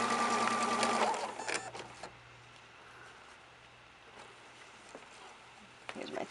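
A sewing machine stitches a large quilt block seam. There is a close, fast mechanical whir for about a second, then a quieter, softer rattle, with faint clicks near the end.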